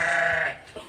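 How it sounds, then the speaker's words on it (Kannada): A pregnant Nari Suvarna sheep gives one close, loud, drawn-out bleat, followed by a brief faint sound before it fades. "ಇದು ಪ್ರೆಗ್ನೆಂಟ್ ಕುರಿ."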